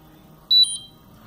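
A homemade Arduino-based home alarm gives a short, sharp electronic beep, a single high tone about a quarter second long that steps down briefly before cutting off, alone over a quiet room.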